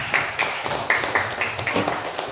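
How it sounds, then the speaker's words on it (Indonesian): Classroom clapping from students, a short burst of sparse, uneven hand claps close by, with several distinct sharp claps over about two seconds. "tepuk tangan dulu untuk si Rafael."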